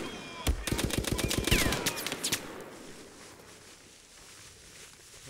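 Rapid bursts of gunfire from the video game Mud and Blood crack loudly for about two seconds, dense automatic volleys with sharp individual shots, then fade into a low ambient battlefield hum.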